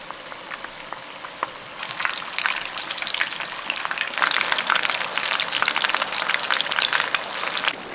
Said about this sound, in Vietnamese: Chiên đến khi chả giò ngả màu vàng giòn như thế này thì mình vớt ra ha.